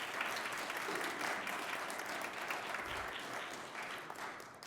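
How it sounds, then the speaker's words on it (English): Audience applause at a Democratic primary candidate debate, a steady dense clapping from a crowd that holds loud for nearly five seconds and tapers slightly at the end. "You can give them a round of applause if you like."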